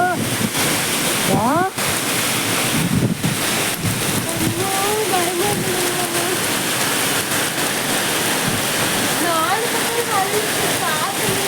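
Heavy rain driven by strong wind lashes a rural spot near Salem, a loud continuous roar throughout, with excited voices talking over it.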